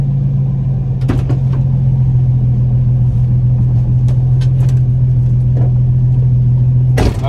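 A Nissan 350Z drives along with a steady low engine drone and road rumble, with a few faint clicks and knocks from the cabin.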